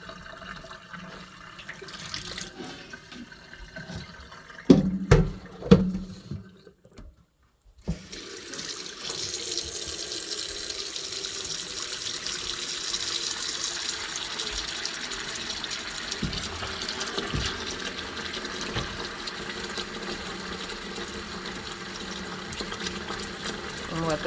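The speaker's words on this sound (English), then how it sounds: "I'm still rinsing it with hot water" Hot tap water runs steadily into a sink while a scarf made of dog hair is rinsed. A short splashy burst comes first, then a gap, then an even stream of water that continues to the end.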